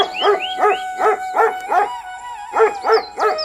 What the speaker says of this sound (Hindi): उसे कुत्ते की चिल्लाने की आवाज सुनाई दी।